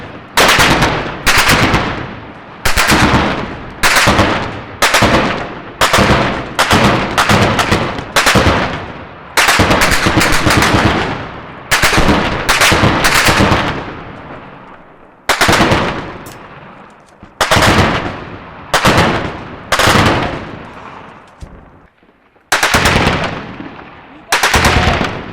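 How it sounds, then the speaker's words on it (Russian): Repeated heavy artillery and machine gun fire in urban fighting in Jobar, Syria: sharp bursts of automatic fire mixed with booming blasts, loud and close, recurring every second or two throughout. "Затем в бой вступили артиллеристы."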